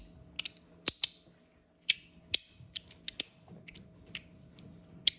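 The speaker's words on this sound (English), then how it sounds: "This sounds like a normal slider." A Compoform fidget slider slides back and forth in a run of crisp mechanical clicks and ratcheting snaps at an uneven rhythm, close and fairly quiet, with no one speaking.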